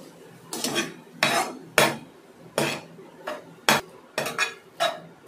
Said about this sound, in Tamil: மசாலாவெல்லாம் அதை சேர்த்து கிண்டி விட்டுறலாம்.